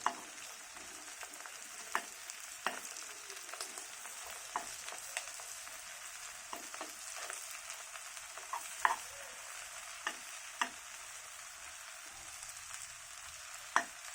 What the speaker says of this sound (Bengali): এগুলোকে হালকা একটু ভেজে নিব